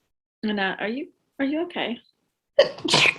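A person sneezes sharply once, an odd-sounding sneeze, following a couple of short spoken phrases in a quiet indoor podcast setting, with people talking around it.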